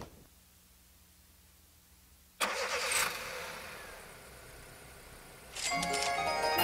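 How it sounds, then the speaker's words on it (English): Truck engine from the Pretty Pet Tycoon game fires up abruptly after near silence, holds a steady mid-pitched rumble as it drives off, then swells louder again near the end with no talking over it. "we're going to go ahead and drag it over to the truck and send it off"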